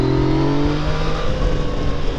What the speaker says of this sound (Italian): sento il motore che urla più non posso